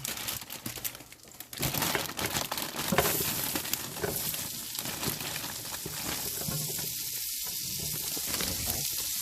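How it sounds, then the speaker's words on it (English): String beans hit a hot pan and crackle loudly, settling into a steady close sizzle and hiss with sharp bursts early on, with no talk. "Now I'm going to add, this is nice and hot, I'm going to add some string beans."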